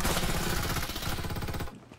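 Rapid automatic gunfire from the video game Farlight 84, a loud dense burst of shots that runs for under two seconds and then cuts off.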